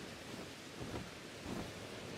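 Rain and rolling thunder in the video game Pokemon Legends: Arceus, a faint steady wash of rainfall with soft low rumbles swelling briefly, no voices.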